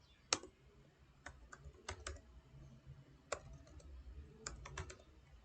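Typing on a computer keyboard while writing code, scattered bursts of close key clicks with pauses between them, quiet against a low background hum.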